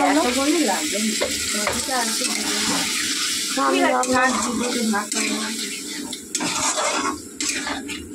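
Water goes into a hot cooking pan of potatoes and spices, giving a loud continuous sizzle and bubbling hiss up close, with someone talking over it.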